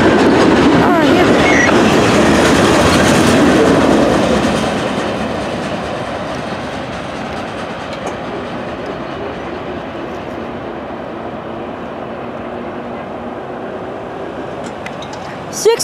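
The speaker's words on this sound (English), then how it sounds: "Six train Q410 is leaving Ashland, Virginia." A CSX mixed freight train rolls past in Ashland, Virginia, loud and close at first with rumbling wheels and clickety-clack, then fading to a softer steady roll, with a brief sharp sound at the very end.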